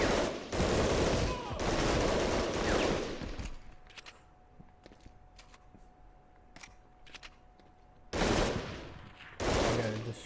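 Long bursts of machine gun fire ring out in Medal of Honor Underground, two loud sustained volleys separated by a quieter stretch of scattered clicks and a faint tone, with the shooting resuming near the end.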